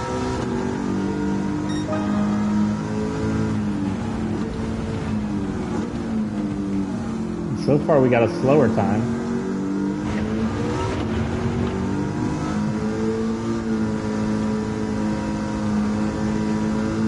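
Ford Mustang Mach 1 with a swapped engine in Gran Turismo 7 drones steadily at racing speed, a loud sustained harmonic roar with shifting pitch and a brief burst of higher revving midway, under a short spoken remark.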